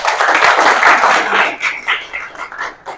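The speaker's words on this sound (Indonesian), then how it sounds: "Tepuk tangan." A group of schoolchildren clap their hands in a classroom, a loud burst of applause that fades into scattered claps and voices toward the end.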